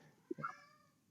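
A cat gives one short meow, close and moderately loud, in a quiet indoor room.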